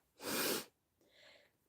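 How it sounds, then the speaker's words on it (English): A single close sneeze, a sharp loud burst followed by a softer breathy exhale, with no talking. "Oh my god, I need to sneeze."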